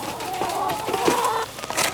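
A flock of backyard hens clucks and murmurs close by in a steady, overlapping chatter, with a few louder calls rising through the brief stretch.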